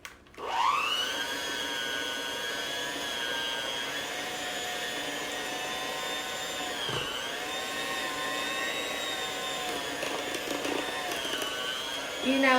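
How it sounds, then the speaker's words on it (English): An electric hand mixer whirs steadily through pound cake batter, a continuous high motor whine lasting several seconds with a brief dip in pitch partway through. "Now I'm just going to mix all of this together."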